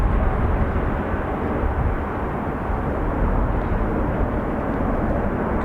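Airplane passing overhead near Dublin Airport, a steady broadband jet roar holding at a constant level throughout with no voices.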